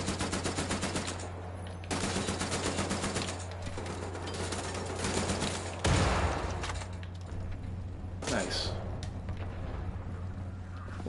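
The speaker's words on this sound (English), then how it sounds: "Is there somebody shooting?" Rapid automatic gunfire in a video game, long bursts of machine-gun fire with brief pauses, loud and close, followed by scattered heavier shots and blasts.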